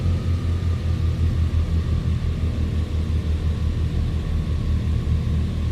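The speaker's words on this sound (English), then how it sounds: "Aurora, the airplane sounds so good." A simulated airplane engine in Microsoft Flight Simulator 2020, throttled to around 1,500 RPM, hums as a loud, continuous low drone and rumble that stays even from start to finish.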